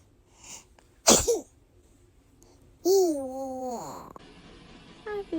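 A baby girl gives a sharp, close sneeze, then babbles and coos in rising, sing-song sounds before a short final vocal burst.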